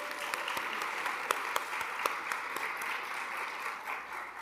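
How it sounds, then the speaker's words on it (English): Applause from the audience at a service dog class graduation ceremony, a steady wash of many hands clapping with a few sharper claps standing out, sustained throughout without speech. "So let's give them a round of applause."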